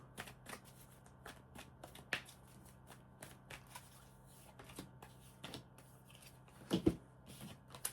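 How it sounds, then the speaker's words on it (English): Tarot cards being shuffled make quiet, crisp riffles and taps in irregular bursts, close by and with no talk. "Give the cards a couple of shuffles here for Pisces."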